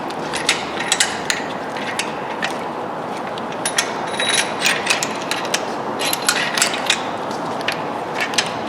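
A ratchet wrench works bolts loose on a Dodge 4.7 engine during teardown, with rapid clicking bursts and metallic tapping over a steady background hiss, close by.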